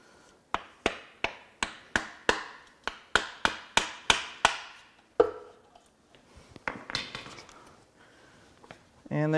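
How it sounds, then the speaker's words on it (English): A chisel driver hammered against a part of a sludge-covered Honda CR-V 1.5L engine during teardown, a rapid series of about fifteen sharp metallic strikes in even rhythm, then a heavier blow and scattered scraping and knocking. "We're going to use a chisel driver for this one"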